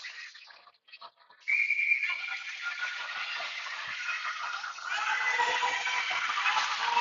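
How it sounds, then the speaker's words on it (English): A referee's whistle sounds over the steady crowd roar of an indoor ringette game, a shrill tone rising above the arena noise as play stops. "And we'll get a whistle, and it will be goalie ring."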